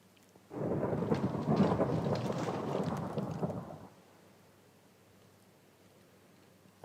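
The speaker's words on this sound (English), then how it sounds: "And this storm is going on." Thunder rolls over steady rain during a storm in Minecraft on PS5, a loud sustained rumble of about three seconds that fades back to quiet rainfall.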